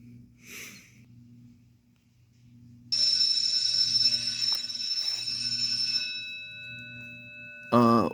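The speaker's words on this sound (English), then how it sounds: "That's like a school bell." A steady electric bell rings like a school bell, loud and continuous for about three seconds after a quiet stretch with faint breathing, then a brief clang near the end.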